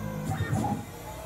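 A low hum from a Tormach RapidTurn CNC lathe motor runs steadily at a slow pace, with faint mechanical whirring and a soft hiss in the background.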